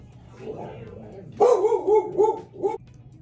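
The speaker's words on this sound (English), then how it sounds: "My dog is barking." A dog barks a few times close by, short sharp yaps in a quick cluster after a quiet murmur.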